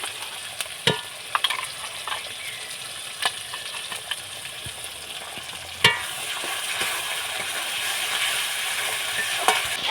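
Chopped tomato and ground spice paste fry and get stirred for egg biryani, a steady close sizzle broken by sharp scraping clicks of the spoon against the pan, with no voices.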